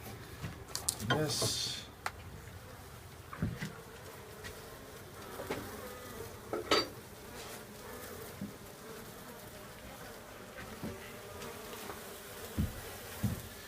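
Honey bees buzzing around a hive as they are installed, a steady, close drone that swells with bees passing near, while someone talks over it and occasional knocks and handling noises break through.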